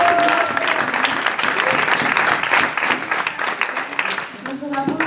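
Congregation applauding during a church youth service, a loud, continuous patter of many hands clapping together, with voices mixed into the clapping.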